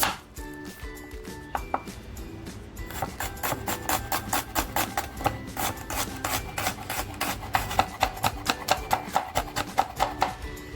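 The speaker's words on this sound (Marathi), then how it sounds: "कांदा आणि टॅमॅटो कापून घेते" Knife chopping onion and tomato on a board, a long steady series of close, sharp rhythmic cuts that speeds up into fast, regular chopping, with no talking.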